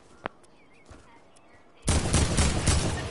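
AK rifle fire in a video game: after near silence with a few faint clicks, a loud, sustained burst of rapid shots erupts and keeps going to the end.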